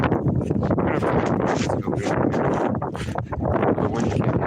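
Strong, steady wind roars across an open microphone outdoors, loud and continuous with gusty buffeting and brief dips, alone without talk.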